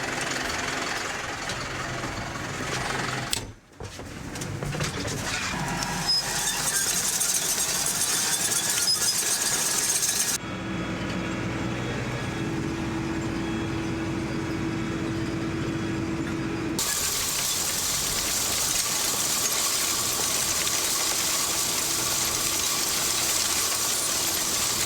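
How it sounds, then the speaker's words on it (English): A tractor engine runs steadily at a farm during spring pea planting, a continuous close drone with a brief dropout early on and a shift in tone partway through. "last time getting in the tractor today"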